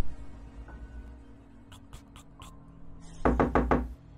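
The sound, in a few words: knocking on a door, horror story sound effect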